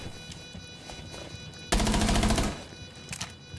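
A burst of rapid automatic gunfire rings out for under a second in a Rainbow Six Siege match on the Oregon map, loud and close, with faint game sounds before and after.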